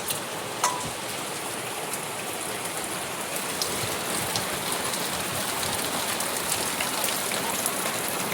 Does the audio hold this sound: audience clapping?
no